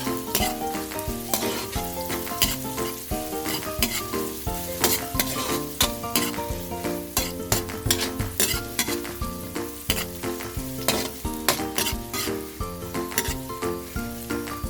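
Ginger sizzles and fries in a hot pan while being stirred, a constant crackling hiss broken by repeated scraping and clinking strokes of a utensil against the pan, close and fairly loud with no talking.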